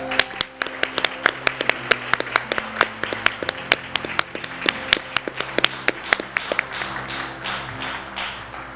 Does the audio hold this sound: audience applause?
yes